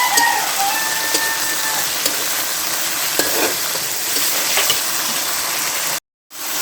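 Young chicken with spices frying in a pan gives a steady, fairly loud sizzle with a few scattered clicks of stirring, followed by a brief drop to silence near the end.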